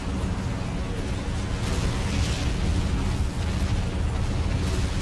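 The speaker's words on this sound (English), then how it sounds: "Let's do another barrage." Artillery barrage explosions rumble in the Men of War war game, a dense, loud, continuous roar of booms blending together with no distinct pauses.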